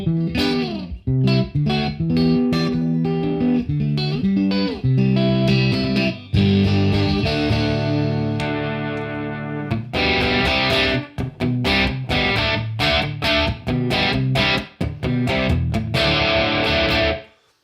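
Distorted electric guitar from a Kiesel guitar run through the HyperRig Kiesel amp plugin with only its room sound, no reverb or delay, playing loud chugging chords and sustained riffs that continue steadily without pauses.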